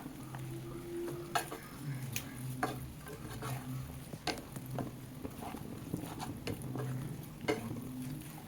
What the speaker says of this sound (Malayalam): ചിക്കൻ ഇട്ട ശേഷം മസാലയെല്ലാം ചിക്കനകത്ത് തള്ളാൻ വേണ്ടി നല്ലപോലെ ഇളക്കി